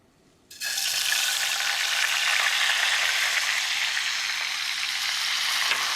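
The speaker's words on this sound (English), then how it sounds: "I'm gonna go ahead and squeeze my lemon juice into it." Lemon juice hits hot brown butter in a pan for Dover sole meunière, setting off a sudden loud, steady sizzle that starts after a quiet half-second and holds evenly to the end.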